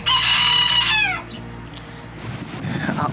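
A rooster crows once loudly and close, on the Azores, the call breaking off after about a second, followed by wind noise and ambient rumble.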